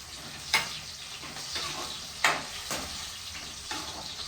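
Tomato frying in oil in a home kitchen pan while making brinjal tomato chutney, a steady soft sizzle broken by a few sharp stirring clatters, close and fairly quiet, no talking.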